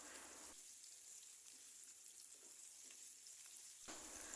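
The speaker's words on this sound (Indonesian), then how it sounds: "ditumis bawang putih dan bawang merahnya" Garlic and shallots sauté in oil in a wok, giving a steady close sizzle with faint stirring scrapes and no talk.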